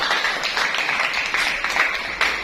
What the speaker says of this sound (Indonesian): Tepuk tangan dulu untuk Renaldi.